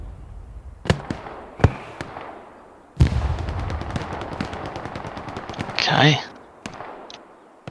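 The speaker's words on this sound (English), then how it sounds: "But we see the grenade barrage now." Grenade barrage explosions and gunfire in the World War II shooter Hell Let Loose, with sharp scattered blasts, then a dense rapid crackle and a loud swelling burst near the end, as a voice briefly speaks.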